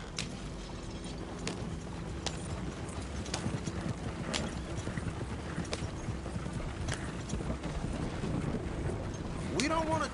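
Horse hooves clip-clop steadily over rough ground in a video game, with a drawn cart heading back to camp. Repeated hoof strikes sit under wind and ambient game noise, and voices talk over parts of it.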